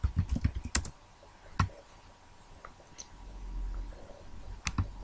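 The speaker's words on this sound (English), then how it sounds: "And type in William Shakespeare." Keystrokes on a computer keyboard, a quick burst of clicking at the start followed by a few scattered taps, close and fairly quiet, with no talking.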